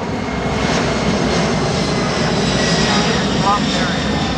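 A Boeing C-17 jet transport roars past at an air show, a loud continuous jet engine rumble with a commentator speaking over it throughout.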